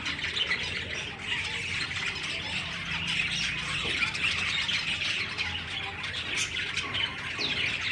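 Pet Java sparrow finches huddled near a warming bulb chirp and squawk continuously in a dense, close chatter of overlapping calls, with no talking.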